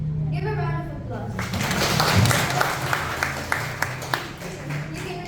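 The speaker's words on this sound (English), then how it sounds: "Give a round of applause." An audience applauds after a host at a student TED-Ed style event calls for it, a broad wash of clapping that swells and then thins into a few scattered claps, with faint voices underneath.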